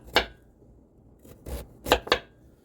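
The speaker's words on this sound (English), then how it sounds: "The majority of these I'm going to cut into thicker slices because I don't want them to get mushy." A knife slices chicken into thick pieces for a crockpot chicken and dumplings dish, giving four sharp, close chopping strokes against a cutting board with short pauses between them.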